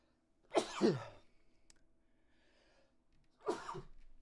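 Two loud sneezes close to the microphone, separated by a few seconds of quiet breathing.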